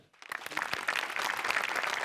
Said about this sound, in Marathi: तुझ्या अटेम्प्टसाठी टाळ्या व्हायला पाहिजेत